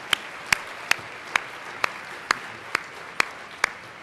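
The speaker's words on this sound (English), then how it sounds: "Let's give another round of applause for the researchers who came up, as well as everyone that's in the room." At an afternoon session of a national conference, sharp, evenly spaced claps ring out about twice a second, close and distinct, over a faint, softer background of further clapping from the room.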